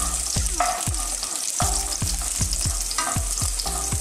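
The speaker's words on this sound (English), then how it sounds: "I have a little bit of oil now on my pan, so we will drop first the garlic. saute the garlic." Garlic sautéing in oil in a pan for a Filipino pork menudo, a steady loud sizzle and crackle with repeated stirring scrapes in a regular rhythm, close up and with no talk.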